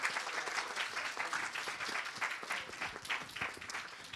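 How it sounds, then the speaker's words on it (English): An audience applauds the action researchers at the close of a panel session on youth work and STEM, a steady wash of many hands clapping that holds at moderate loudness for several seconds with no voices over it. "can we give our action researchers a massive round of applause?"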